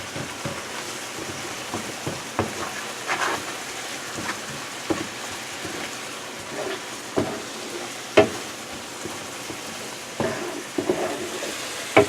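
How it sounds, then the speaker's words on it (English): Sauce with onions and mushrooms reduces in a pan in a messy home kitchen, giving a steady soft sizzle and bubble with occasional sharper clicks and stirring taps, fairly quiet and with no talk. "we're reducing the amount of liquid in the pan and bringing it to a thicker sauce consistency"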